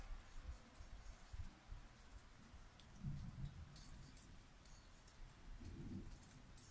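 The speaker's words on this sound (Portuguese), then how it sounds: "Chuva de verão." Sudden summer rain after thunder and lightning falls outdoors as a faint, steady patter with scattered drips and occasional low rumbling, with no voices.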